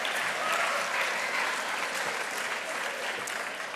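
Steady audience applause at the Brower Youth Awards ceremony, a dense wash of many hands clapping at moderate distance, continuous for several seconds with no voices.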